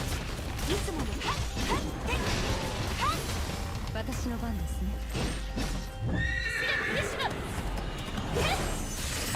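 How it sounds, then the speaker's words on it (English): A horse in the video game Honkai Impact 3rd whinnies and its hooves clip-clop across a busy, steady game soundscape, with voices talking over it. "Bringing out the horse."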